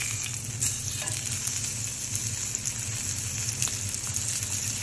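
Ahi tuna sizzling in a hot pan just after being flipped, a steady, close, even frying hiss with faint crackles and pops throughout and no talking.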